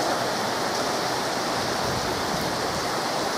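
Thunderstorm rain falls in a constant, even rush of hiss and patter near the microphone, unbroken and without talk throughout.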